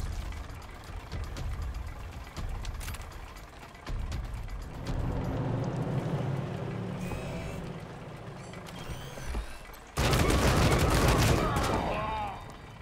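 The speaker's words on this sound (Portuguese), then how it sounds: "Cuidado com as metralhadoras torreta aí, viu?" Turret machine guns fire in rapid mechanical bursts during Wasteland 3 combat. The clattering fire comes in waves with metallic impacts and grows loudest near the end, with players talking intermittently.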